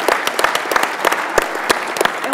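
Audience applause at a sports talk, a dense patter of many hands with sharper individual claps standing out, steady and close for a couple of seconds.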